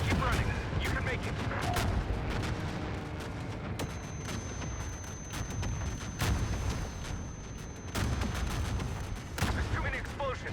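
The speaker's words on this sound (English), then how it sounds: "There's too many explosions." Rapid gunfire crackles and booms nonstop with heavy explosions rumbling underneath, dense and loud like a battle at close range, from a Call of Duty: Vanguard trailer.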